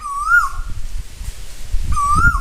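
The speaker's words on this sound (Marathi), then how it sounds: "खूप छान वाटते कोकिळाचा आवाज ऐकून" An Asian koel calls outdoors in rural village woodland: two clear, rising whistled calls, one near the start and one near the end, over a low rumbling background.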